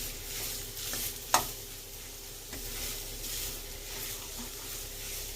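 Onions frying in a pan, a steady soft sizzle with a sharp utensil clink or scrape near the start, otherwise continuous low hiss with no voices.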